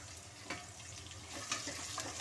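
Carrot, potato and beans fry in oil in a pan for a fenugreek vegetable bath, giving a faint, steady sizzle with soft scattered crackles and light stirring clicks.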